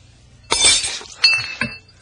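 A glass of water is dropped in a radio drama scene and shatters, a sharp crash followed by two smaller tinkling clinks of scattering shards, close and loud with no voices.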